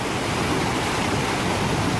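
Glacier-fed mountain stream rushing below a waterfall in the Höllental, a close, loud, steady broadband wash of water with no pauses and no talk.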